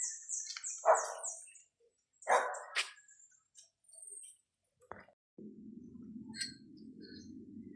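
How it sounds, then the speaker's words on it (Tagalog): A dog barks a few times outdoors in a quiet nature area in Laguna, the barks loud and close at first, then a low steady hum carries on while insects and birds chirp faintly in the background. "May aso."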